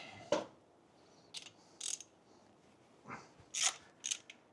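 Ratchet with a 3/16 Allen socket working on a motorcycle engine's cam cover: a few short, quiet clicking bursts spaced apart, close by and otherwise fairly still.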